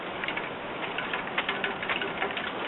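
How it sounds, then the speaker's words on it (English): Melting snow drips from a house roof and runs down a drainpipe, a fast irregular patter of small clicking drops over a steady wet hiss. "Snow's all melting on the roof. And hear it dripping."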